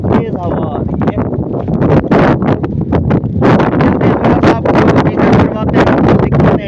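Strong, cold wind blasts outdoors near a park, a loud continuous roar buffeting the microphone throughout without a break, gusting harder in waves.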